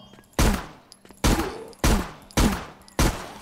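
Five loud, sharply separated gunshots from a firearm in the zombie survival game Zompiercer, each a hard broadband crack with a short decaying tail, fired at a steady, unhurried pace.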